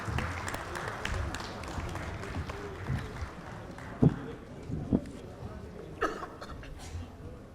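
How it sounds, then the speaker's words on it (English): An audience at a microfinance summit applauds, a dense wash of scattered clapping that carries on at moderate volume beneath a voice speaking. "Ladies and gentlemen, request your applause."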